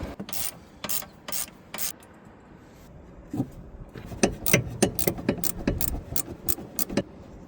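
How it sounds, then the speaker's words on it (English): A deep reach socket on a ratchet turns a drop link nut on a BMW E46, giving a series of sharp metallic ratchet clicks in irregular bursts, close up, mixed with some light rubbing and handling noise and no talk. "get a deep reach socket on it and do it the rest of the way"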